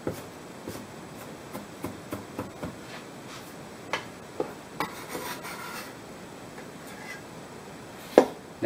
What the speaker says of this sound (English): Now, what I'll do is I'll julienne the ginger.